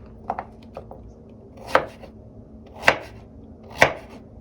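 Sharp knife chops on a board: a couple of quick light taps, then three louder, evenly spaced cuts, close and clear.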